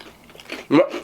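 A single crunchy bite into a Burger King breakfast item, one loud close crisp crunch rising out of quiet mouth noise near the end of the moment, with no talking over it.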